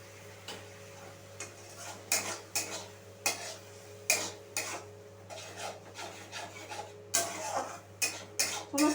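Ginger-garlic-green-chili paste with spices being worked in a pan for a jackfruit curry: repeated scraping, rasping strokes of a spatula at an uneven rhythm, close and moderately loud over a steady low hum, with no talking.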